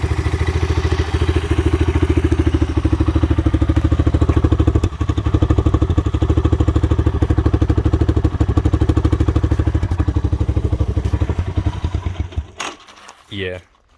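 A 1985 Honda Big Red three-wheeler engine idling on choke, a loud, close, rapid steady putter that runs evenly before sputtering and dying away near the end, followed by a brief clatter.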